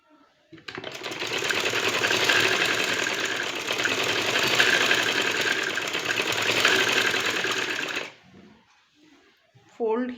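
Sewing machine stitching elastic into the folded hem of capri trousers, a loud continuous rapid mechanical whir for about seven seconds that stops abruptly, followed by a brief voice.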